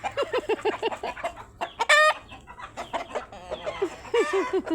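A small rooster and chickens clucking in a farmyard, a close, busy run of rhythmic clucks with a short sharp crow-like call in the middle, continuing around a person's voice.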